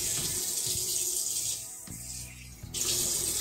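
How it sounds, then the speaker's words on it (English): Tap water runs steadily into a kitchen sink as a whole scaled branzino is rinsed under it, a close continuous splashing hiss that shifts as the fish moves through the stream. "I'm just gonna wash this off with water."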